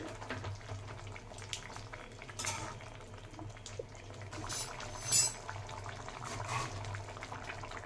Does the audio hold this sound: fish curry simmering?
yes